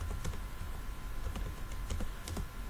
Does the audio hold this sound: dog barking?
no